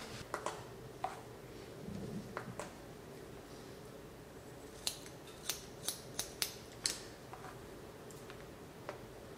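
Sharp scissor snips cutting hair for a one-length basic haircut, a few scattered early then a quicker run of crisp, close snips, over a quiet background.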